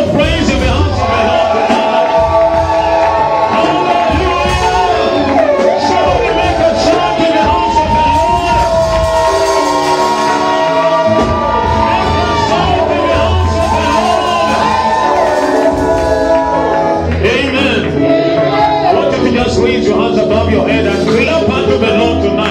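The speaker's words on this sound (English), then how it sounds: "Let me hear a shout of praise in the heart of the Lord." A church congregation at a glory night worship service erupts in loud shouts, whoops and cheers of praise, a dense, sustained roar of many voices lasting throughout.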